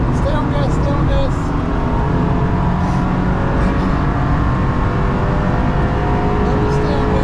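Car engine held at full throttle while accelerating on a lap of the Nürburgring, a loud steady drone heard from inside the car with wind and road noise throughout.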